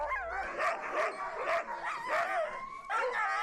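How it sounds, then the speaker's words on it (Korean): Sled dogs in polar Svalbard bark, yip and howl excitedly all together, a continuous loud chorus of overlapping voices with rising and falling howls throughout. "개들이 갑자기 일제히 짖기 시작합니다."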